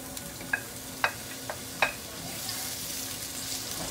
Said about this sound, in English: I'm going to put a little oil in the pan, and then we're going to go ahead and we're going to add the purple onion in here.